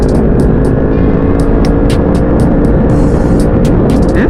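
A 2020 Yamaha MT-10 motorcycle with an aftermarket exhaust and no ECU flash drones loud and steady while riding through traffic, its engine and wind noise filling the clip with a few faint ticks on top.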